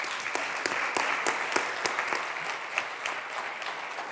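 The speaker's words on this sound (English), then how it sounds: "So applause." Applause from a panel-discussion audience at a circular economy event, a moderate room full of steady clapping with a few sharper individual claps standing out, no voices over it.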